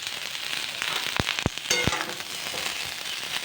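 Chopped onion hits hot mustard oil in a wok while cooking potato and cauliflower curry, giving a loud, steady sizzle broken by a few sharp crackles and pops.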